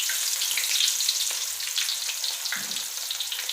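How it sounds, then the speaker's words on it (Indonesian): Shallots and garlic frying in hot oil for a home-cooked soup, a steady close-up sizzle and crackle that holds for the whole stretch with no voices. "Lalu aku akan menggoreng bawang teman-teman."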